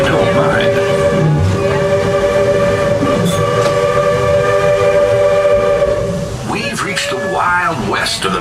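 A Magic Kingdom theme park train ride rumbles steadily along its track with sustained whistle-like tones, mechanical clatter and a background voice talking.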